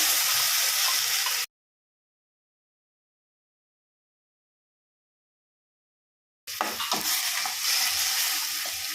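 Onions frying in a hot pan, a dense sizzle with stirring scrapes, heard alone in two bursts separated by a stretch of complete silence.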